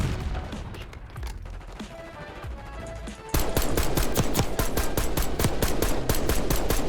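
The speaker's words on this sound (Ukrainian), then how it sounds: "хто по мені стріляє, хто по мені стріляє" Rapid bursts of automatic gunfire in Call of Duty: Warzone, rhythmic and loud, take over halfway through after a stretch of noisy, scattered shooting and rumble.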